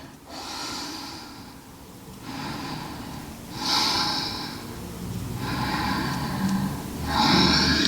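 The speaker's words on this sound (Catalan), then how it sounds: "Fem 3 respiracions profundes." Deep breaths taken during a morning yoga routine, slow airy inhales and exhales repeating in a steady rhythm, close and fairly loud, with no talking.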